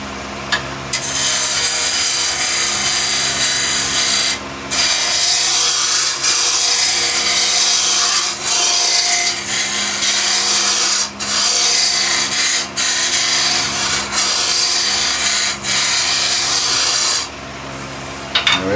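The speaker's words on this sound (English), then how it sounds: "let's carry on with the roughing gouge" A wood lathe spinning a raised bowl blank while a roughing gouge cuts, giving a loud, continuous scraping hiss that stops briefly a few times as the tool lifts off and re-engages.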